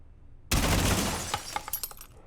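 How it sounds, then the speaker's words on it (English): Window glass shattering from gunfire in Rainbow Six Siege: a sudden loud crash after brief quiet, followed by a spray of falling shards and a few sharp tinkling impacts as the debris settles. "You can clearly hear when the glass breaks."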